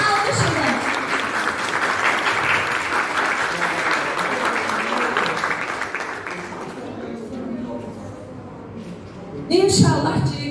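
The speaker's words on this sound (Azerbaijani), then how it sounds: "Onlara çünki alqış edin." An audience applauds loudly during a poet's speech and poetry reading, the clapping dense and sustained for about seven seconds before thinning out, with a brief louder burst near the end.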